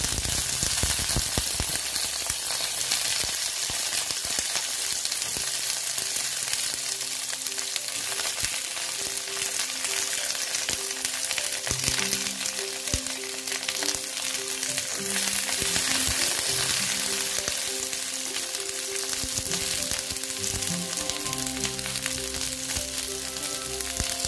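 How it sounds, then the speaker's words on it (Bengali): Okra frying in hot oil with black cumin seeds, a loud continuous sizzle with occasional stirring scrapes, no talking over it. "এখন আমি ঢেঁড়সগুলো দিয়ে দিচ্ছি"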